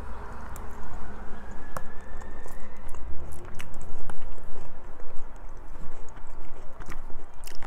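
Close, steady chewing and biting of a tuna salad made with yellowfin tuna, lemon, apple and cranberry, with moist crunches repeating throughout and no talking.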